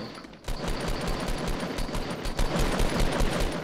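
Rapid automatic gunfire in Fortnite Battle Royale rattles off in quick, loud bursts of closely spaced shots that continue almost without pause.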